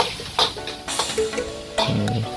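Nasi goreng kampung tossed and fried in a wok, with scattered clanks and scrapes of the pan, a soft sizzle and low rumbling under a steady background.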